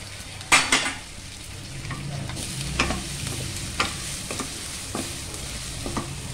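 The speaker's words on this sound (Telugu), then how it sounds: "ఇప్పుడు నేను బంగాళదుంప ముక్కలు వేసేసాను ఇందులో." Potato pieces frying in a pan of oil with ginger-garlic paste for a bitter gourd curry, stirred with a metal spoon. A steady close sizzle runs under several sharp scrapes and clinks of the spoon against the pan. Nobody speaks.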